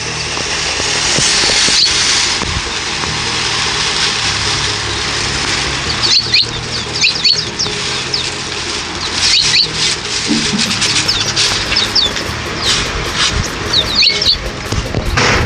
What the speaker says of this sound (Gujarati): આમ ચકલા પણ આવી ગયા છે